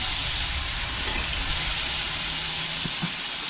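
A burger patty sizzles on a hot griddle right after being flipped, a steady, loud, dense hiss of fat frying with no voices.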